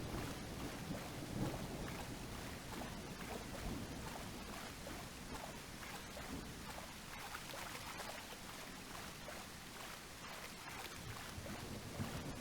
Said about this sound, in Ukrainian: Пішла злива.